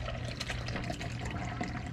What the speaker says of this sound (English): I'm going to pour the jus into our fat separator here